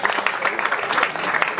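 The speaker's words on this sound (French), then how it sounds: "Applaudissez s'il vous plaît." Guests at a gala dinner for an annual accountants' congress applaud, a brief, even patter of many hands clapping in a large room without speech over it.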